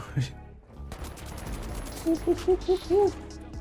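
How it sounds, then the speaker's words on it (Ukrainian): A quick burst of gunfire in the video game The Finals, several sharp rapid shots in a cluster, with background game noise underneath. "Хтось стріляє"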